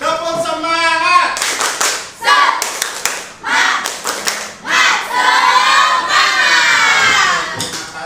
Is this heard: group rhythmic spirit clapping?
yes